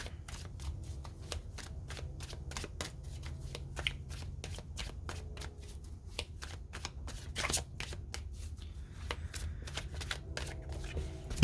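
Angel number oracle cards are shuffled by hand outdoors in a rapid, continuous run of crisp papery riffles and flicks, close and fairly quiet, with no talking over them.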